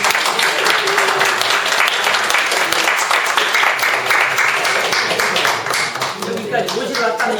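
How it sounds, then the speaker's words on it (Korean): An audience claps steadily and loudly at a Won Buddhist lecture, while a voice speaks over the applause. "박수!"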